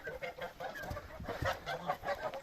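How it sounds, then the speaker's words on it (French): Pekin bantam hens shut in their pen cluck in soft, busy, overlapping calls at moderate distance, with no one talking. "ici vous voyez j'ai enfermé les poules pékins"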